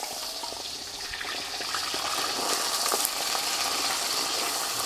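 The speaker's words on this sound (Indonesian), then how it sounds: "Nih kita goreng dulu jengkolnya." Jengkol beans fry in hot oil in a pan for sambal jengkol with smoked fish, giving a steady, dense sizzle that builds slightly louder midway. It continues alone with no talking.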